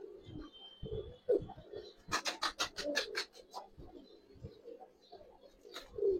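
Giribaz pigeons coo in low, throaty bursts close by, broken midway by a quick run of sharp, scratchy pulses, then fading back to faint coos with no talking.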